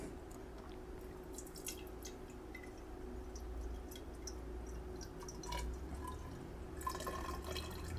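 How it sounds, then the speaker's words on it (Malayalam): Petrol poured into a plastic cup gives a gentle, faint dripping and trickling over steady low background noise, brightening briefly near the end, close up with no voices. "ഇങ്ങോട്ട് ഒഴിക്കുമ്പോൾ ഇത് 100 തന്നെയാണോ നമുക്കൊന്ന് നോക്കിയേക്കാം"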